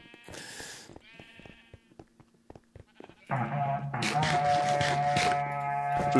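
Minecraft sheep bleat in a few short, nasal cries that grow denser and louder toward the end, mixed with game clicks and background sounds.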